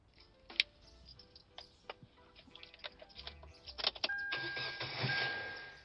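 A car engine is started after a series of scattered clicks and ticks; the engine then cranks and catches, settling into a steady running rumble, with no speech.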